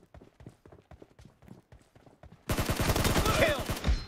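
Gunfire rattles in a 1v1 team deathmatch shooter game: faint spaced shots at first, then a loud dense burst of rapid automatic fire near the end.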